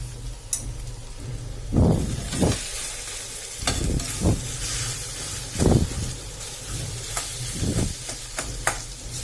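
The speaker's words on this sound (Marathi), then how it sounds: "असं टाकून झालेले सर्व बटाटे आता आपण त्याला हलवून घेऊया" Potatoes frying in a pan are stirred, a steady sizzle broken by several loud scraping, turning strokes spaced every second or two, close by with no voices.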